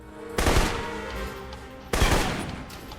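Rifle gunfire in the video game Alpha Protocol during a training range exercise: two loud, sharp shots about a second and a half apart, each with a short ringing decay, no talk.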